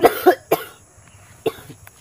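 A person coughs in short sharp bursts, three quick coughs close together, then a pause and one more cough with a softer trailing clearing sound, close to the listener with no talk.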